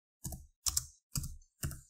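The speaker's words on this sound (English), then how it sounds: "So I'm going to type in the search box TIA" Four distinct, evenly spaced clacks of keys typed on a computer keyboard into a search box, close and crisp with silence between strokes.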